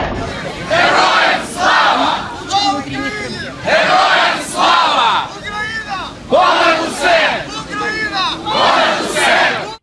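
A large crowd packed into the Kyiv metro chants and shouts in loud, rhythmic surges, each wave of voices rising and falling close by and echoing in the underground space.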